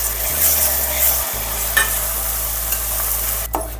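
Ground coconut chutney added to a hot oiled pan and stirred on low flame for coconut chitranna, giving a steady close sizzle with the scrape of a spoon and no talk.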